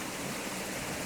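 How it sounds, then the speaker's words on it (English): Waterfall with a stream flowing in from the left, a dense, even hiss of rushing water, steady and unbroken, with no voices. "The waterfall, the stream here on the left hand leading you up."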